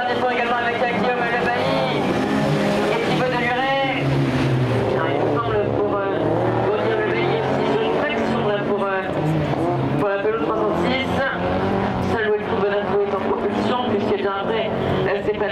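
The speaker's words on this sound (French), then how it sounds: "voilà le dernier tour pour Stéphane Evenot, pour Robert Paul" Touring race cars on the final lap of a Tourisme Cup race at Montauban-de-Bretagne, engines loud and close, revving and shifting as cars pass in succession while an announcer commentates excitedly over them.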